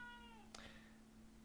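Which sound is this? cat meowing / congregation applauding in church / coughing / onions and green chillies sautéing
cat meowing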